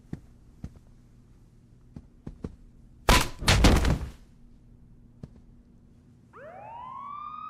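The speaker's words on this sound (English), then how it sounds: "Sounds like the cops are coming, Mr. Sharp." In the Saints Row video game, a few thuds and a loud clatter are followed by a police siren rising in a sweeping wail near the end, still fairly faint as it approaches.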